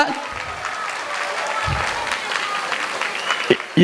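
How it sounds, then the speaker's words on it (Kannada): Audience at a Tulu-language Bunts community entertainment event applauding, a broad wash of steady hand clapping that swells and sharpens near the end, with voices mixed into the crowd noise. "ಚಪ್ಪಾಳೆ ತಟ್ಟೋಡು ಒಂದು ನಿಮಿಷ ಆ ಚಪ್ಪಾಳೆದ ಸೌಂಡ್ ನಕಲು ರೆಕಾರ್ಡ್ ಮಲ್ಪೇರು"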